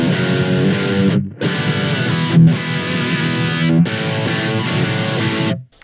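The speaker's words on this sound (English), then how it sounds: "So now I'll get you a distortion sound, which is Marshall-esque type of sound." Heavily distorted electric guitar chords with a Marshall-style, not very high-gain tone ring out loud and sustained, with a few brief breaks between strums.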